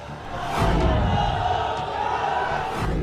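Thousands gather at an election rally in India, a dense roar of crowd voices and cheering swelling loudly and holding steady throughout.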